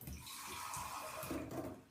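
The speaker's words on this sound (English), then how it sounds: "I'll just basically give her a rinse off with some warm water" Warm water rinsing a bearded dragon lizard, a close continuous running-tap splash with soft uneven gurgles, heard alone.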